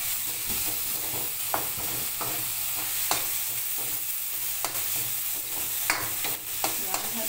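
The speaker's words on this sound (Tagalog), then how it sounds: "Yan, halu-haluin lang natin ng ganyan." Ginger frying in a pan and being stirred, a continuous bright sizzle broken by sharp scraping ticks of the utensil at irregular intervals, close and clear with no talking.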